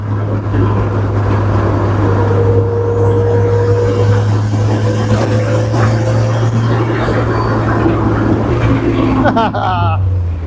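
Boosted Geo Tracker on the move, its engine droning loud and steady throughout, with a faint whining tone rising and falling over it and a brief fluttering burst near the end as boost releases.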